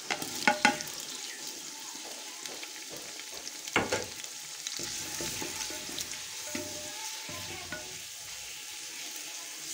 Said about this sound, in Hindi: इसके अंदर हम डालेंगे टमाटर